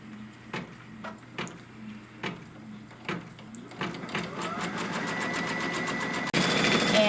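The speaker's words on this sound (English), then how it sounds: "then it's going to stitch the tack down" A Kimberbell embroidery machine stitches a quilt-block tack-down, starting with slow, evenly spaced ticks that speed up into a steady mechanical whir, then grow louder near the end.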